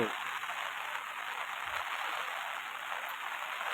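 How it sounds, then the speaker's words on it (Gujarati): Heavy rain pours down in a steady, dense hiss that holds evenly throughout, close and unbroken, with no clear voices. "જોઈ શકો છો વરસાદ ફૂલ ચાલુ થઈ ગયો છે"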